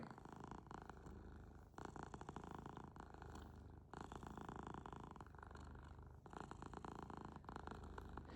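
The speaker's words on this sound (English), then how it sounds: "Listen to that purring." A cat purrs steadily up close, a low continuous rumble broken by brief pauses for breath, with no other sounds.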